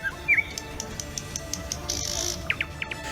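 Birds chirp in a forest, with sharp scattered tweets and short whistled calls, a brief buzzy trill in the middle, and a quick run of high notes near the end over a soft, steady background hiss.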